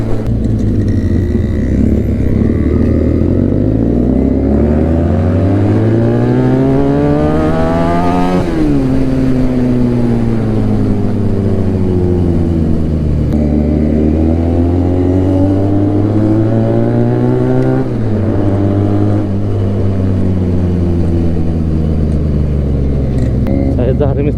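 Loud Benelli 300 motorcycle revving hard, its engine pitch sweeping up and falling back in repeated surges over a steady idle; people talk in the background.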